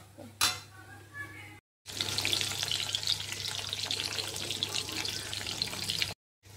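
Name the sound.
onion paste frying after frying fish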